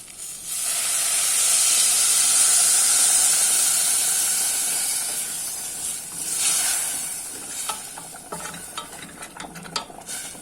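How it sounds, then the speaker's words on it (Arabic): Boiling water rushes onto sautéed rice in a pot, a loud steady hissing pour for several seconds that fades into bubbling, clinking and scattered stirring clatter. "انزل بقى الميه مغليه"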